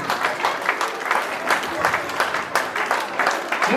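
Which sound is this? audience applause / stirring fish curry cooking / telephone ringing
audience applause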